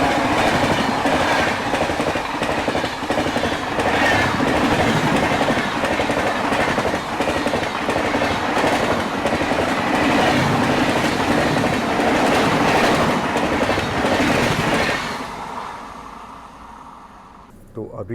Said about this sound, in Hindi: तो अभी जो ट्रेन क्रॉस हुई वो भी वैशाली थी, नई दिल्ली जाने वाली